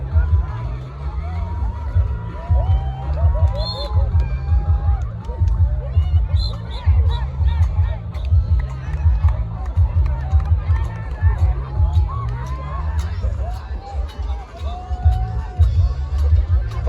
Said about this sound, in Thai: กองผู้ชมผู้เชียร์กัน